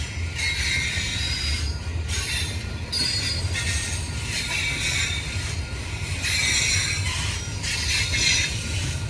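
A massive westbound Union Pacific double-stack freight train passes Kirkwood Station, its wheels squealing loudly in bursts over a continuous heavy rolling rumble, close by and with no talking.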